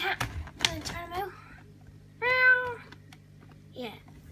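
A cat that has just eaten a daddy long legs meows several times, with short close cries at the start, a longer clear meow in the middle and a brief final one, against a steady low hum.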